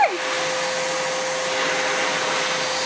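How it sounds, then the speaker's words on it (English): A household vacuum cleaner runs continuously close by, a loud steady roar with a high whine, with no one talking over it. "she didn't like the vacuum, so she's gonna go hide"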